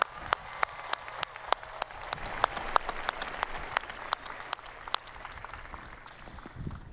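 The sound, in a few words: commencement audience applause for friends and family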